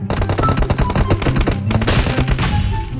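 Rapid automatic gunfire from a PUBG Mobile match, a dense, loud, continuous burst of shots without pause, no voices heard.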